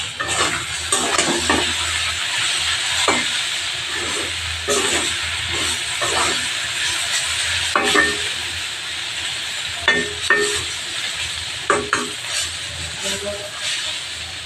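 Jute leaves with onion and a little rice flour fry in a pan, a steady hiss broken by repeated scraping and tapping strokes of stirring.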